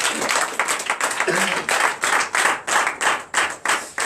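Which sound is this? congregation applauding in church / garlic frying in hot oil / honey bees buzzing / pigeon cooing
congregation applauding in church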